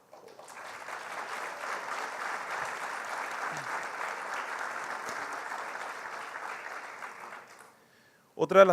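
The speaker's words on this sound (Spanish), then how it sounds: "Muchas gracias por el aplauso" An audience at a talk on Mercosur and Paraguay gives a steady round of applause that swells, holds for several seconds and fades out, followed by a brief burst of close noise at the end.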